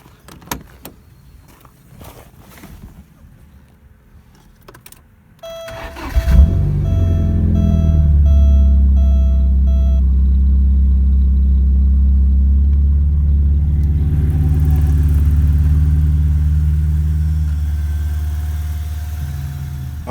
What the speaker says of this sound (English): so let's try and start it up.